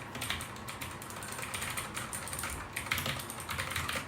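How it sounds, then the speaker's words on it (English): Rapid, crisp clicking of keystrokes on a brand new mechanical gaming keyboard, close and steady with irregular bursts of key presses and no talk. "for Christmas I got a brand new gaming keyboard and you can't say it doesn't sound satisfying"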